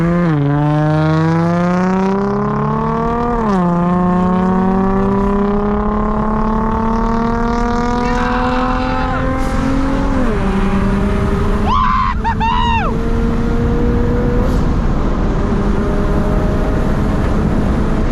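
A turbocharged Subaru BRZ accelerates hard in a street race against a modified G35 coupe, its engine climbing steadily through several gears with brief dips at each shift, loud and close throughout, with a short burst of tire or turbo whine partway through.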